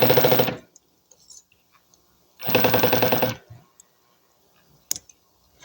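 A sewing machine stitching a handbag, two bursts of rapid rhythmic clattering stitches close by, separated by quiet, with a few small clicks of handling afterward.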